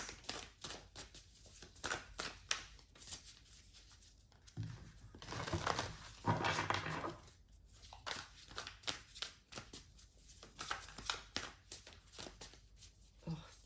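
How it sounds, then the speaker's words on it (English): Large oversized tarot deck being shuffled by hand, giving repeated papery riffles and flicks with a denser burst of card noise midway, close and fairly quiet with no talking. "So difficult to shuffle."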